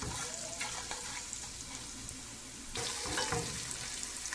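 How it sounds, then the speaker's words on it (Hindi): Chana daal roasting with spices in a pan, a steady sizzle with scraping stir strokes that grow busier and louder partway through, with no voices. "इस सब को हम अच्छी तरह से मिक्स करके रोस्ट कर लेते हैं"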